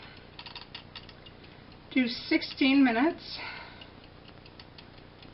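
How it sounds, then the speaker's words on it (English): A small kitchen egg timer is wound with a loud, close ratcheting whir while hamburgers are being cooked, then ticks softly. A person talks at the start. "We set the egg timer."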